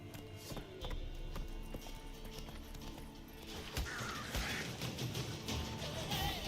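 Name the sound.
horse hooves galloping in video game The Witcher 3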